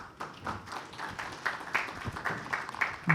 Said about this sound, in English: Please have a huge round of applause